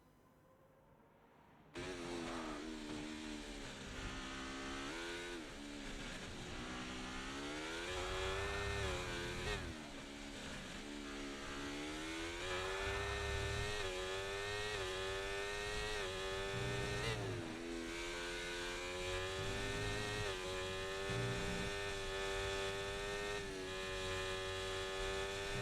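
Ferrari and Williams race cars in a racing video game hold a steady, loud high-pitched engine whine, gears shifting with repeated rising pitch sweeps, continuous and close with no talk.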